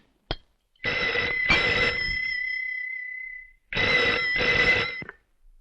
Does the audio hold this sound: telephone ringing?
yes